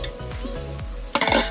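Mutton frying with turmeric in a pot outdoors at a picnic, a steady close sizzle broken by rhythmic stirring scrapes, growing louder and harsher near the end with no voices.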